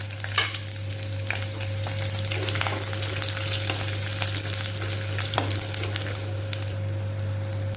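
Cinnamon, cloves, cumin, fennel, green chillies and curry leaves fry in oil in a clay pot, a continuous bright sizzle with scattered crackles and stirring taps over a low steady hum, no voices.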